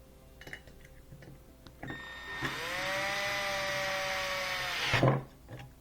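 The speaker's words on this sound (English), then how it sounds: "going to screw these in. Phillips head." A screw is driven in while fitting a dusk-to-dawn sensor to a porch light. Faint handling clicks lead into a loud, steady motorized whine that runs for about three seconds and ends in a brief rattle.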